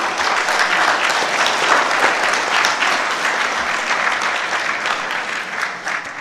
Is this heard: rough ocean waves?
no